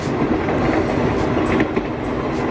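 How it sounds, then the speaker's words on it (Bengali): A train rushing downhill along its tracks: a loud, continuous, heavy rumble with faint wheel clatter, close and unbroken, with no voices. "শীঘ্রই ট্রেনটি নিচের দিকে ছুটে আসে।"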